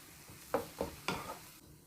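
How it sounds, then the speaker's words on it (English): Minced beef sautéing in a pan, with three distinct stirring scrapes and bursts of sizzle over a quiet low hiss, close and moderately soft. "Saute until the meat changes its color."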